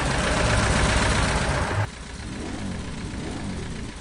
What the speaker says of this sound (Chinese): 发动机的咆哮声印证了西多之前所说，动力十足